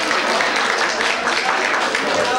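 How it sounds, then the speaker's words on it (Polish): A studio audience applauds the female contestants on the Polish dating game show Randka w ciemno, a dense, steady wash of many hands clapping that carries evenly through the whole moment. "Proszę, brawa dla kandydatek."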